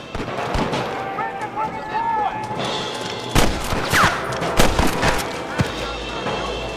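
Gunfire in the Red Dead video game, a rapid fusillade of shots that builds into dense sharp bursts, mixed with in-game voices talking over the shooting.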